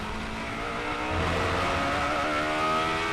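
Radical SR8 race car on the Nürburgring, weaving to warm its tyres before a record lap attempt: a loud, steady engine drone with a harmonic whine that rises in pitch, close and continuous with no talk.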